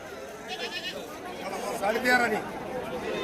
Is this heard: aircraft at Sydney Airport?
no